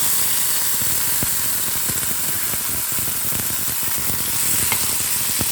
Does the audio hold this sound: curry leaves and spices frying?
yes